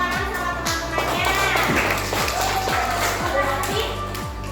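Second-grade children in a classroom clap for their classmates, producing a brisk, fairly even patter of hand claps mixed with children's voices talking over it.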